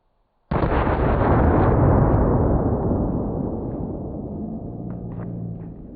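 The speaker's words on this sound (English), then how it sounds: "This is the Smith & Wesson 500 Magnum" A Smith & Wesson 500 Magnum revolver fires once with a loud, sudden boom and a long, heavy rumbling tail that slowly fades over several seconds.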